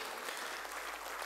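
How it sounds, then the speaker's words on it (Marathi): Faint, distant applause from an audience at a university foundation day ceremony, a brief even wash of clapping with no clear individual claps. "आपण जोरदार टाळ्या वाजवूया"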